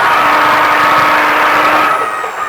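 A Baja truck engine revving up under acceleration, a loud, close, sustained drone that rises steadily in pitch, with a high whine on top.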